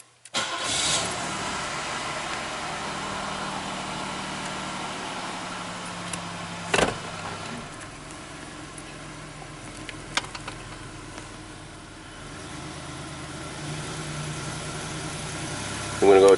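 A 1993 Buick V6 engine runs at a steady, close idle, with a few brief louder bursts and clicks scattered through the hum.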